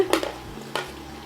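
Potato, carrot and beans go into a pan already cooking ginger-garlic paste for vegetable bread biryani, giving a couple of quick clinks and a soft sizzle that fades within a second.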